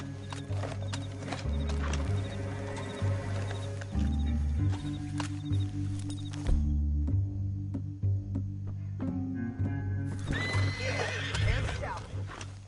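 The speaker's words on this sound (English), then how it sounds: "And that sure is Shane Finney, coming off the back of his horse" Horse sounds with hoofbeats and a whinny, mixed under music and people talking throughout.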